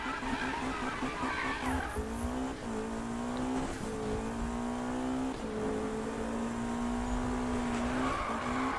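A Ford Mustang Foxbody drifts in the game Need for Speed 2015, its tires squealing long and loud over a high revving engine, with the pitch shifting as the car slides through continuous drifts.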